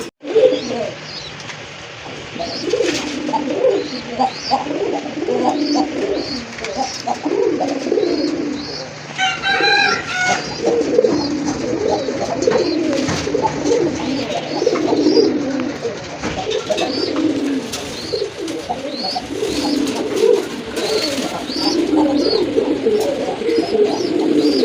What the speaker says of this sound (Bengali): চলেন কি কি কবুতর রয়েছে বাইরে এখানে আপনাদেরকে দেখাই